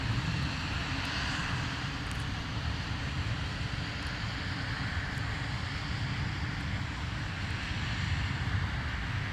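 Delta airliner taking off from Minneapolis–Saint Paul airport toward Las Vegas, a distant, steady low engine rumble with wind noise, moderately faint and continuous throughout.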